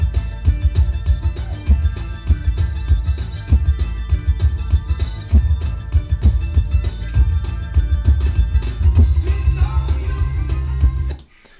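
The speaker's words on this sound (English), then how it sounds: "that's kick and bass coming in really, really aggressively" Heavy kick drum and bass driving a music track, pounding steady beats with dense low end throughout, loud and upfront before stopping abruptly near the end.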